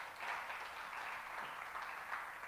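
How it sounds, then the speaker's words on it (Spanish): A church congregation applauds steadily for a few seconds, a dense, even wash of many hands clapping that fills the room without a break. "Denle un aplauso a Cristo por eso."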